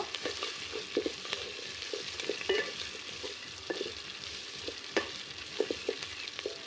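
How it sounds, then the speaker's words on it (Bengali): Chili paste is sautéed in a pan for mutton curry, producing a steady close sizzle of frying with scattered scraping stir strokes throughout and no talking. "দিয়ে দেবো লঙ্কা বাটা আর একটু কষে নেব।"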